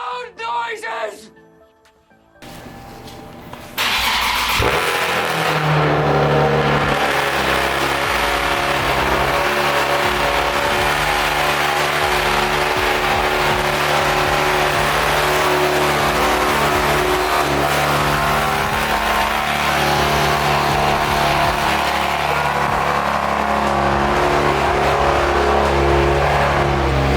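After a brief quiet pause, a Nissan 370Z engine fitted with a throttle body spacer fires up loudly and keeps roaring with repeated revs, close and dominant for the rest of the clip.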